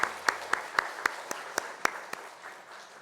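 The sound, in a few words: church congregation applause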